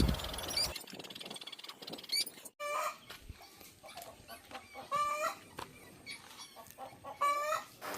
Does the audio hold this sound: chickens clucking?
yes